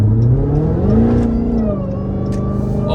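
A Dodge Charger Hellcat Widebody engine revs up loudly with a rising supercharger whine that climbs and then levels off, close and steady, no talking.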